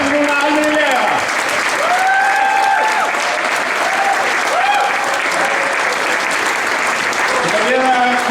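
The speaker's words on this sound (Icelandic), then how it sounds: "Klöppum núna almennilega." Sustained, dense clapping fills a hall at a Þorrablót feast in Svarfaðardalur as the audience applauds heartily, with a voice speaking over it now and then.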